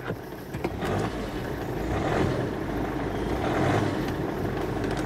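A used MG ZT 190, Freelander TD4 or Rover 25 Stepspeed engine runs smoothly, a steady low rumble at close range that stays level and untroubled, with no talking over it.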